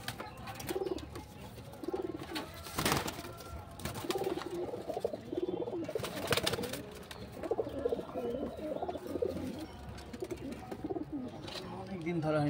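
Frightened pigeons, long unhandled, coo in a loft while someone talks over them, with short bursts of wing noise breaking in.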